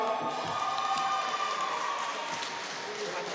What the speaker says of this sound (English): Round of applause for my boy Fresh, y'all.